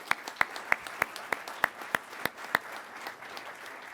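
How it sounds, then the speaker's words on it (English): Sparse, rhythmic clapping at a pilot training graduation ceremony, a few pairs of hands striking in a steady beat about three times a second, crisp and moderately close, fading after a few seconds, no talking over it. "Please, if you join me in a round of applause for our instructor pilots."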